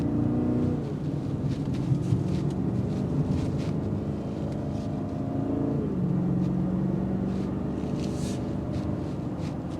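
BMW X5/X7 M60i SUV engine droning steadily under strong wind and road rush, with a gear change midway as the tone drops and climbs again, heard from inside the cabin.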